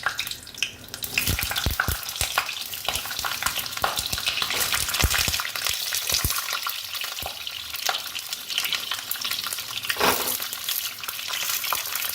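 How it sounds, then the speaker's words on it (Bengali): Pointed gourd pieces frying in hot oil, a steady loud sizzle with repeated sharp crackles and pops as pieces drop in and are stirred, close up, no talk. "তেল গরম হয়ে গেছে, এবার একটা একটা করে পটলগুলো ছেড়ে দেবো।"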